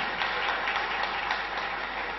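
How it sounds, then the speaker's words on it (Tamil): Steady applause from a large audience at an astrology conference anniversary function, a dense, continuous patter of clapping at moderate volume with no voices over it. "இதுக்காக நம்ம கைத்தட்டணும்."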